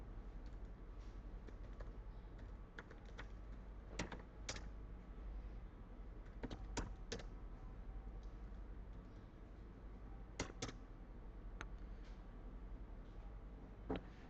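Keys on a computer keyboard are tapped in quick, uneven bursts while sample data is entered into an Excel sheet, soft close clicks with a few louder strokes over a low steady hum.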